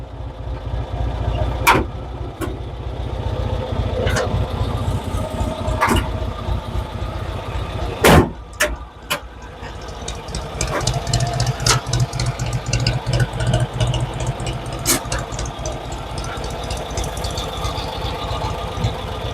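A 1986 Cushman Truckster utility vehicle idles close by with a steady, slightly lumpy engine chug, broken by sharp mechanical clunks and clicks at several points.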